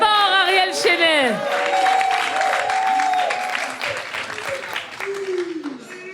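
An outdoor concert crowd applauds and cheers for an artist, with steady clapping, scattered whoops and shouts, and voices talking over the noise throughout.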